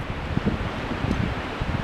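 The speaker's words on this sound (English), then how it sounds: "Can you hear the trees?" Trees rustle and roar in a windstorm in the Northwest, a steady broad whooshing with gusty buffeting and faint creaks, moderately loud and with no one talking.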